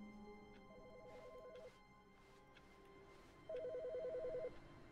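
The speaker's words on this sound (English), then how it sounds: "There's a phone ringing." An electronic telephone ringing in The Stanley Parable video game, two trilling rings separated by a pause, steady and moderately loud over a quiet humming room tone.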